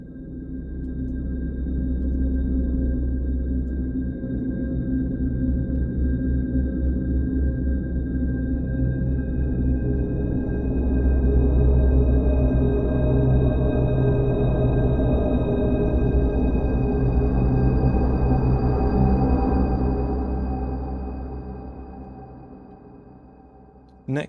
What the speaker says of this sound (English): let's just see what this sounds like with a load of reverb